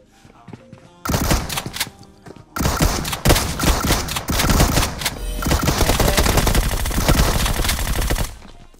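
Double-barrel DBS shotgun gunfire in the BGMI battle royale game, loud bursts of rapid shots in several sustained volleys, close and dense, with a quiet gap between the first two bursts.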